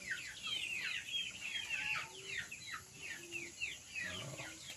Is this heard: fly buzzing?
no